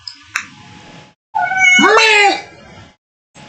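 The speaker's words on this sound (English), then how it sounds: "Come meow at me." A pet cat meows in a drawn-out, rising-then-falling call, close and fairly loud, preceded by a brief clatter and faint background noise.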